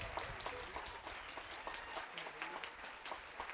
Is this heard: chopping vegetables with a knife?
no